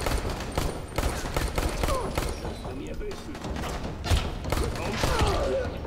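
Rapid bursts of gunfire crack through a sewer in Dying Light, dense and loud, with thumps and short pauses between volleys.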